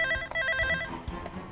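A telephone bell rings indoors in a home, a short run of bright, steady ringing tones that stops partway through and gives way to quiet room noise.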